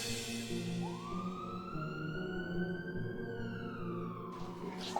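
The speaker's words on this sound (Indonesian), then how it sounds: "Kok ada suara ambulan?" A distant siren, named as an ambulance, rises in a long sweeping wail that holds and slowly falls, faint over a low background murmur.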